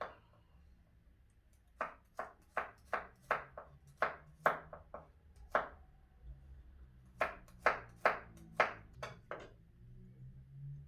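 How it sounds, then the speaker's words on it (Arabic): Three cloves of garlic chopped with a knife on a board, a run of sharp, close knocks in quick bursts, then a pause and another steady series of cuts. "ونقطعو الثومه، 3 الحبات ديال الثومه"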